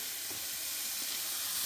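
Mushrooms sizzle in a hot pan on a home stove, a steady bright hiss of frying that holds even throughout with soft faint clicks underneath.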